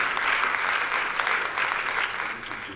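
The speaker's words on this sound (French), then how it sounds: "je pense que ça mérite des applaudissements" Audience applause at a slam poetry festival in Abidjan, a dense continuous round of clapping from a crowd that swells briefly and then fades slightly toward the end.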